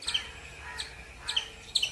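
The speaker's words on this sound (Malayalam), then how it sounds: "റംബുട്ടാൻ്റെ മരത്തിലുള്ള കിളികളുടെ ശബ്ദം കേട്ടപ്പോൾ അങ്ങനെ നോക്കിയതാണ്." Birds in a rambutan tree chirp in short, bright bursts, four or so quick calls spaced through a couple of seconds over a quiet rural backdrop.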